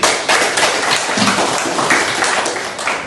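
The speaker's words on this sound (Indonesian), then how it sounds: "Tadi tepuk tangan dong untuk depan" Students in a classroom break into loud, dense applause, with many hands clapping at once in a continuous burst.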